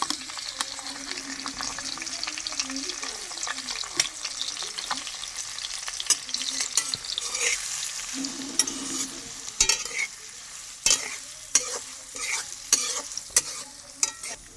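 Chopped onion frying in a pan that has just been used to fry eggs, a continuous close sizzle under repeated spatula stirs and scrapes that grow sharper and more frequent toward the end, with nobody speaking.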